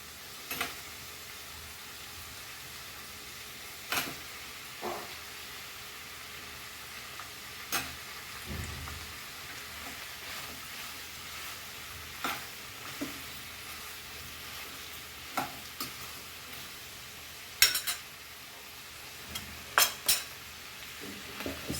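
Potatoes frying in a pan for a Goan clam stir-fry give a low, steady sizzle, broken by occasional sharp clinks of a utensil against the pot at irregular intervals.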